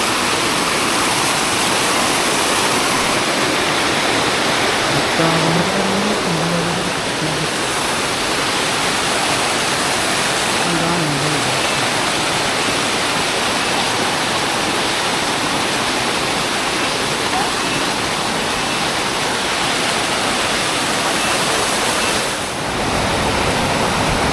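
A waterfall on the Agasthiyamalai mountain trek, where people are bathing, gives off a loud, constant rushing roar of falling water that fills the whole span. Faint voices briefly surface beneath it.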